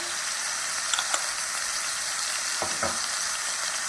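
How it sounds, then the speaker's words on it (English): Ground meat seasoned with beef bouillon powder, dried minced onion and garlic powder sizzles steadily in a pan, a constant close hiss broken by a few light scrapes as it is broken apart. "Now break it apart and saute."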